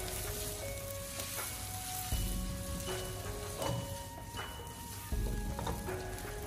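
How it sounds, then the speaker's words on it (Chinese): Blanched squid hits a hot wok over high heat and sizzles hard, with repeated scraping stir-fry tosses and clanks of the spatula breaking through the constant frying hiss. "然后立刻开大火，将它快速的翻炒几下"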